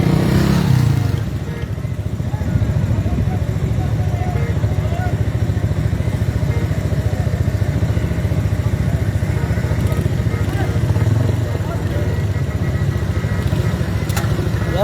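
Motorcycles and other vehicles crawl through a dense political rally procession in Islamabad, a steady close rumble of idling and revving engines that runs for the whole stretch, with a brief louder burst at the start and no clear speech.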